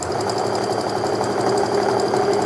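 A sewing machine stitching a quarter-inch quilt seam on half-square triangles hums and chatters in a fast, even rhythm, close and loud, with no voices.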